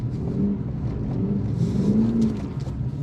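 A Lexus car revs and drifts on a driving-school course, a steady loud engine drone with rising and falling pitch throughout.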